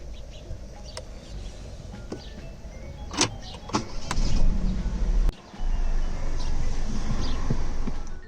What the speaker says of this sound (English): First, we must start by, well, starting up the 2008.